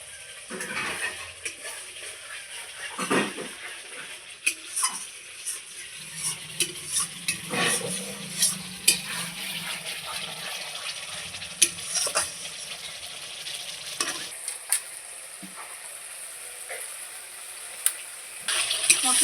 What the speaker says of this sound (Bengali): জলটা দিয়ে আবারও খুব সুন্দর করে কষিয়ে নেব।